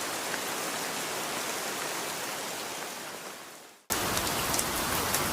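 Steady, dense rain pours down with a broad hiss of droplets on surfaces, briefly fading out before resuming at full strength, with no voices.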